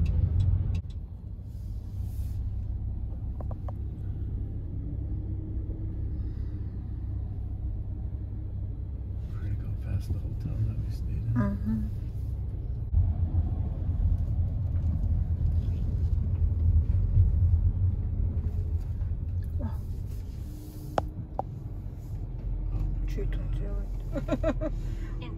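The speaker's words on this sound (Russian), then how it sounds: "Просто всегда такое движение, ужасные пробки." Heavy road traffic in Boston rumbles as a low, steady drone from inside a car, with engines and passing vehicles underneath frequent conversation and occasional short knocks.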